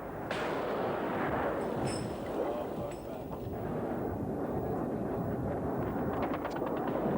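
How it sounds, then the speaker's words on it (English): Anti-aircraft flak fire aimed at a swooping Su-25 attack jet during the Soviet–Afghan War, a continuous rumbling barrage of booming bursts with a roaring background. "Flak narrowly misses a swooping Su-25."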